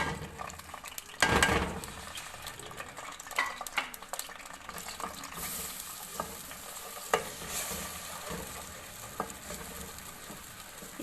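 Ground masala spices frying in hot oil in a pan for pakora kadhi, a steady close sizzle with occasional scrapes and clinks of a stirring spoon against the pan.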